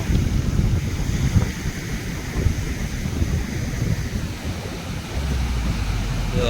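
A stormy sea during the monsoon: waves surge and churn under strong, buffeting wind, a loud, continuous low roar with no pauses.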